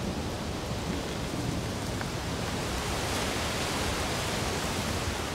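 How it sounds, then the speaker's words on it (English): Heavy rain pours steadily during a subtropical storm in koala habitat, a dense broadband hiss with a low rumble of thunder beneath, constant and close throughout with no voices. "to shield her from a subtropical storm"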